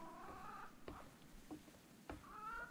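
A cat in the video game Reka gives short meows and a purring murmur amid soft clicks and game ambience, fairly faint and close.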